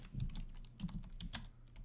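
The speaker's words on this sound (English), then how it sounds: "Maybe I should just type it." Quick typing on a computer keyboard during a Hearthstone arena session, a short run of soft, close key clicks in an uneven rhythm, fairly quiet, with no voice over them.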